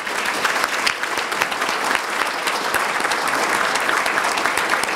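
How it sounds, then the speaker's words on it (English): A conference audience applauds the hotel staff, with steady, full clapping from many hands held at an even level for several seconds and no one talking over it. "Please join me in a round of applause for them."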